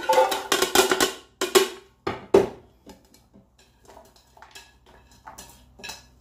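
Diced onions clattering into a metal saucepan, a cluster of sharp knocks and scrapes followed by quieter rustling and light taps.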